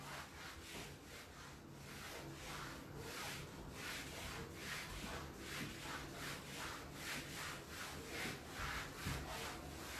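An eraser rubs across a board during a classroom lecture, giving faint, rhythmic back-and-forth scrubbing strokes that repeat steadily and sound fairly close.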